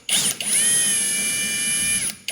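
A power driver spins out T20 screws holding the inner cover to the bumper of a Volkswagen Passat CC, a steady high whirring whine running for about two seconds, loud and close, with no talk.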